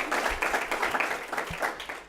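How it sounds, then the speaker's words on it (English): An audience applauds a speaker's three children, a dense patter of clapping that carries through the whole short stretch at moderate loudness. "a round of applause for my three kids"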